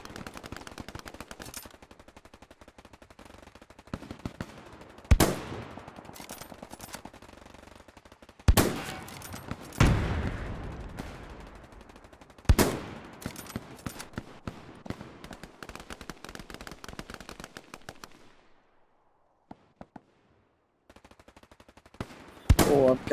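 Gunfire in the WWII shooter Hell Let Loose, with rapid automatic bursts and several loud, sharp single shots echoing over a busy battlefield, close and prominent, a brief lull near the end before shooting resumes.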